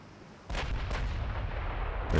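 Warship guns firing in the naval game Ultimate Admiral Dreadnoughts: a loud deep salvo boom that opens into a sustained rumbling roar, with a second sharp crack soon after and another at the end.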